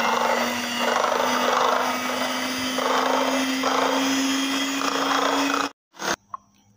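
An electric hand mixer whips about 500 ml of whipping cream, a steady whirring drone with a pulsing rhythm, close and fairly loud, before cutting off abruptly near the end.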